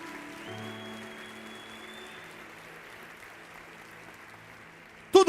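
Church congregation applauds, a soft, distant, steady patter of clapping under a sustained keyboard tone, ending with a brief louder sound.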